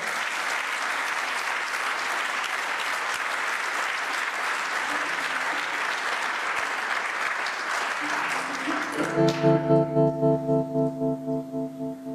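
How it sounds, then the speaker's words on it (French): Thunderous applause from a forum audience for two performers, a broad sustained roar of clapping that fades near the end as a tonal musical sound takes over. "un tonnerre d'applaudissements peut-être pour messieurs Rémi Castelin et Christophe Isselé"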